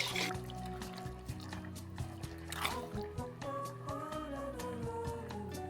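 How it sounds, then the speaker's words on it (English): Water sloshes and trickles inside a sauce jar being rinsed out, quiet and close, with small drips and occasional light knocks against the glass. "basically I'm just rinsing the jar, making sure I'm getting all the sauce out"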